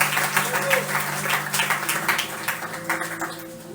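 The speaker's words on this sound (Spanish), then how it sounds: "le fuertes palmas al que vive" A church congregation clapping strongly in praise, a dense, continuous wash of applause mixed with voices and a sustained tone underneath, loud and filling the room.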